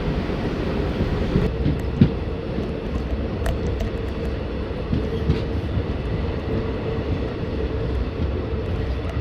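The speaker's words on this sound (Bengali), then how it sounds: "ট্রেন এসে পৌঁছালো ননিহাট ভাটোরিয়া স্টেশন" A passenger train rolls through a dark, hilly forest route in Jharkhand toward Nonihat Bhatoria station, giving a steady low rumble with occasional faint clicks throughout, no voices.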